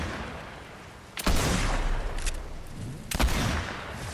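Two loud, sharp volleys of gunfire in a Fortnite Zero Build match, a couple of seconds apart, each a close burst of shots with a short tail, over a quieter game background.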